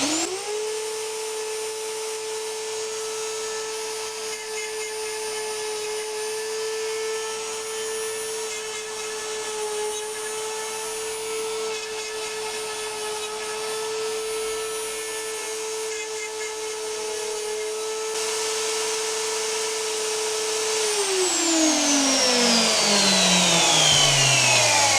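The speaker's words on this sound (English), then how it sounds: "I'm just going to go ahead and turn the machine on and tell it to go, and it's going to cut those 4 holes" A CNC router spins up to a steady, loud high whine as it cuts four holes, holding one pitch for about twenty seconds before the spindle winds down with a falling tone.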